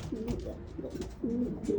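Racing pigeons cooing inside a loft, several soft, throaty coos repeating in quick bursts, close by and fairly quiet.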